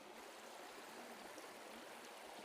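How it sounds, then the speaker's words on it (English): A creek flows in a steady, close babble of rushing water, continuous and even throughout with no voices. "So I'm at a creek."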